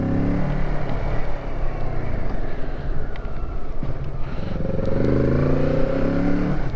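A Kawasaki Z650 motorcycle riding along while the rear brake is tested, with a steady engine drone, road rumble and wind buffeting that stay loud and continuous throughout.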